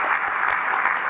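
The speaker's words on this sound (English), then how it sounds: "So you can clap along with us." A brief burst of clapping along with music, many hands close together in a steady, rhythmic patter lasting about a second.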